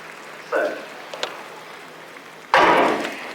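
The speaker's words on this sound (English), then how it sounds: "despite a bit more crowd noise" A stadium crowd murmurs at an evening athletics session in Glasgow before a women's 200 metres semi-final, a broad, steady roar that swells suddenly into louder cheering partway through.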